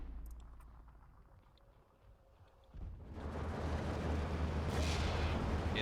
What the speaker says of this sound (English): these are pretty small explosions there